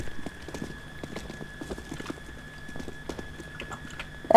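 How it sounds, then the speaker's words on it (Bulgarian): In a video game, a horse's hooves clop in a quick, uneven rhythm through the whole stretch, ending in a sudden loud burst that may be a whinny, with steady electronic tones underneath. "Аре бе, кон."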